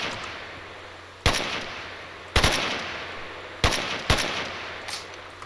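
Gunfire in the video game STALKER Anomaly, four sharp, loud single shots spaced about a second apart, each with a short decaying tail over a steady ambient hum, no talking.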